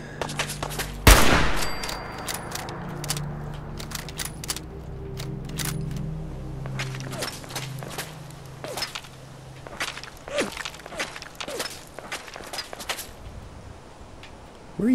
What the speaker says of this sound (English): Where are you shooting from?